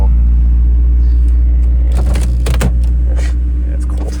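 A 2003 Type S car idles after a cold start on a freezing day, a loud steady low engine rumble throughout, with some clunks and rattles in the middle as the engine settles, no talk.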